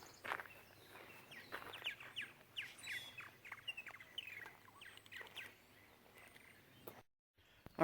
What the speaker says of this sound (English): oh, there's a bunch of birds there on that house.